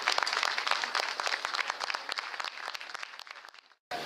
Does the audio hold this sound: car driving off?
no